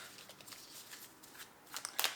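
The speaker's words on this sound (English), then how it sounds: "I'm going to shuffle 2 more times, and then I'm going to take it off the top." Tarot or affirmation cards being shuffled by hand, a quiet series of soft riffling bursts that ends in a brighter, sharper flurry near the close.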